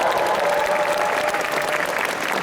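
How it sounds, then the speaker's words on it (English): A large convention crowd applauds at the Otakon 2019 opening ceremony, a loud, continuous roar of many hands clapping, steady throughout with no pauses. "Big round of applause."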